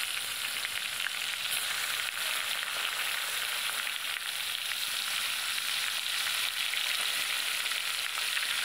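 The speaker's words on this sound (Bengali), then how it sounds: "এবার মাছগুলো দিয়ে দিচ্ছি তেলের ওপরে।" Large koi fish fry in oil, producing a loud, close, continuous sizzle and crackle that holds steady without pause.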